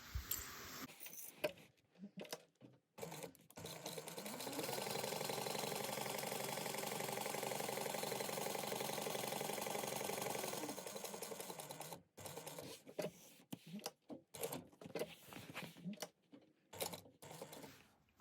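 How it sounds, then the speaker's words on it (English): Sewing machine topstitching along a seam at an eighth of an inch, starting with short bursts and then running in one long steady whir for several seconds before easing into stop-and-start stitching, with fabric handling between runs and no talking. "we are going to top stitch along this seam at 1/8 of an inch on both sides"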